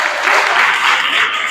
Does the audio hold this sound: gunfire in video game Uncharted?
no